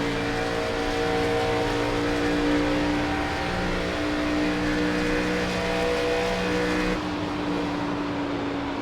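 Race cars roar side by side down the front stretch in a loud, steady engine drone that holds for several seconds before dropping off slightly near the end.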